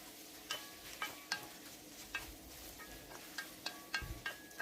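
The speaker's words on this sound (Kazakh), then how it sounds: "Табаға, қызып тұрған табаға ішек-қарынды салдым." Quiet sizzling of pre-boiled beef tripe in a hot pan, punctuated by repeated light scrapes and taps of a utensil stirring the food.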